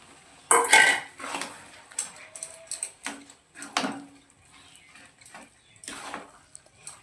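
Mashed peas and potato going into a pan for vegetarian ghugni and being stirred, a series of close, irregular clinks and scrapes of a spoon against the pan with quiet gaps between.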